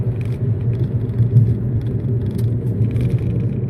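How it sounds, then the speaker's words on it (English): A volunteer's electric truck speeds past on a road, heard as a steady, fairly loud rumbling whir with slight swells. No voices are heard. "Wow, volunteer electric truck going very fast"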